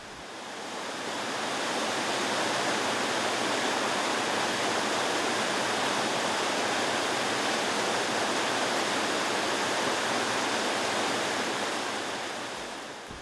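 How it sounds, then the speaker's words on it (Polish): Waterfall and cascades in Poland's Bieszczady mountains, such as the Szepit falls on the Chylaty stream near Zatwarnica, give a steady, dense rush of falling water that stays loud and unbroken throughout with no voices. "Za największy uważany jest wodospad Szepit na potoku Chylatym niedaleko Zatwarnicy"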